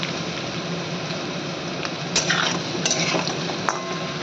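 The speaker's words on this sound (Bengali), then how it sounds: "এবার আমি আলুটা একটু ভেজে নিই" Potatoes fry in oil in a covered pan and get stirred, a continuous soft sizzle under scraping and a few sharp utensil clinks toward the end.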